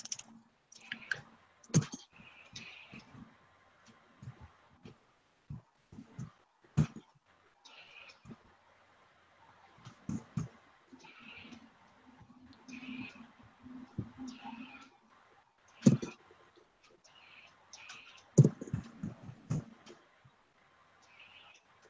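Numbers are tapped into a calculator, sharp irregular clicks of buttons scattered throughout, with people talking quietly between the presses.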